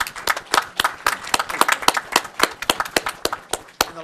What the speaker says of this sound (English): Give her a round of applause because she deserves it.